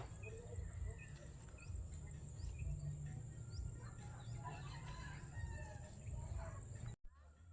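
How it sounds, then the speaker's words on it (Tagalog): Bird calls in the trees chirp in scattered bursts, joined by what may be a distant rooster, over a low steady rumble and a high constant whine, ending with a brief dropout. "Dinig ba niyo mga idol yung huni ng mga ibon?"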